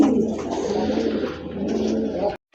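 A big pair of Afshan grizzle pigeons coos close by, with low, throaty, rolling calls that continue through the short moment before cutting off abruptly.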